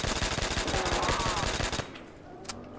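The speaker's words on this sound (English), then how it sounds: "This gun's pretty decent for a couple rounds." Rapid automatic gunfire from a weapon in Call of Duty Zombies, a fast, loud, evenly spaced burst lasting nearly two seconds before cutting off to quiet background.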